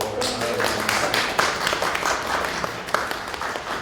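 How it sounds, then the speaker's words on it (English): Audience applause closing a humanities and social sciences career panel at an expo, dense steady clapping from a room of people lasting several seconds with little talk. "especially a round of applause for"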